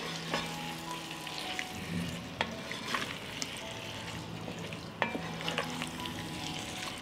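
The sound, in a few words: stirring chopped sausage and vegetables frying in a pan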